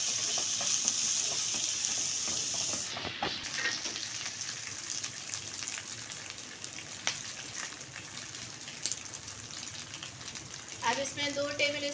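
Beef steak stir-fry with chopped green chillies sizzles steadily in a hot pan, a continuous loud frying hiss with occasional scrapes and clinks of stirring up close.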